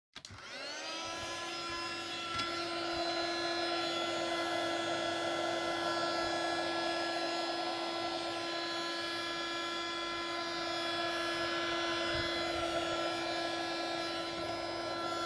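A heat tool drying paint on an art journal page starts up abruptly and keeps a steady, loud whirring blow with a high whine, running continuously with no speech.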